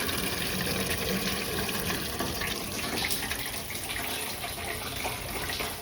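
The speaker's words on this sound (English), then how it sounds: "I'm just filling this thing up with water." Water rushes steadily into a sprayer tender trailer tank, a continuous close gushing hiss with slight fluctuations throughout and no voices.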